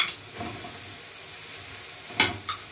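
Beef browning in a hot pan gives a steady, soft sizzle and hiss, broken by a few sharp spikes as the meat is stirred or moved, with no voices.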